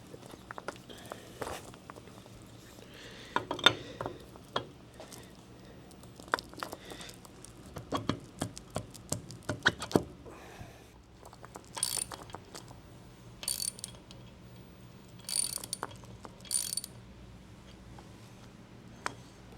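A ratchet tightening a 19 mm nut during assembly of a Katool tire machine clicks in short, uneven bursts, with scattered clanks, handling noises and footsteps in a quiet room.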